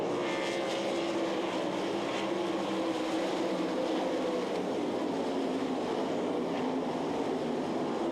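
360 sprint cars racing at the Knoxville Nationals, a steady, continuous engine roar from several cars at a distance without a break, with no talk.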